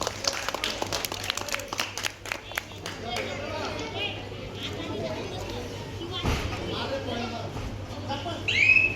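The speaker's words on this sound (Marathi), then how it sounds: "एकदा जोरदार टाळ्या वाजवा." Spectators at a school kabaddi match clap and cheer, the applause dense at first and thinning into crowd chatter and an announcer's voice over the ground.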